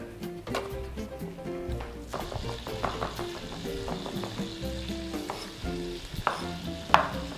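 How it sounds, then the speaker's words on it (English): Chicken fries in a pan over medium heat with a steady crackling sizzle, broken by occasional clinks and scrapes from nearby kitchen work. "You want to do this maybe like 5 or 6 minutes on each side at a medium fry."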